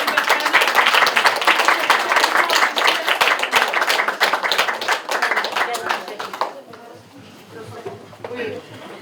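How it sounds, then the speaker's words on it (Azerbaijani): Audience applause at a book presentation, a dense burst of many hands clapping for about six seconds before thinning out and fading, with a voice speaking faintly over the tail. "Gəlin bir-birimizi alqışlayaq"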